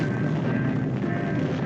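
An atmospheric nuclear test explosion gives a sustained, dense low rumbling roar that stays loud and steady, with no voice over it.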